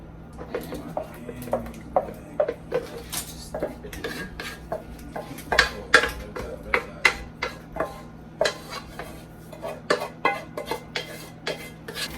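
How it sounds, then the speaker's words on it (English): Pasta being mixed with sauce in a bowl, utensils clinking and scraping against the dish in a steady series of sharp, close taps and knocks, with no talking. "Dump the sauce in here. All you have left to do is mix."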